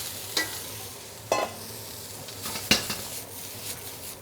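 Broccoli and garlic stir-fry in a hot pan, tossed with a few sharp metallic clanks and scrapes spaced over a soft background sizzle, close by and with no talking.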